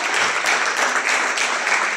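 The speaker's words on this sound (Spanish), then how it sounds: "dele fuertes palmas al Señor" A church congregation at a fellowship service claps hands loudly and continuously, a dense rapid patter of many people praising with no talking over it.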